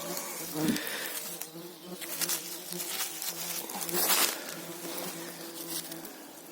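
Insects buzz continuously around in a hot forest, a dense swarm of whining mosquitoes and deeper droning horseflies, rising and falling as they pass close.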